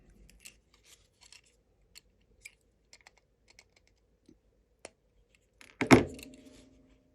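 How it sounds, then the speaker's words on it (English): Cutters snip the excess wire lead on a Velleman Running Microbug electronics kit: faint, scattered small clicks and handling taps, then one loud, sharp close snip with a brief ringing tail, no talking. "And then snip off the excess."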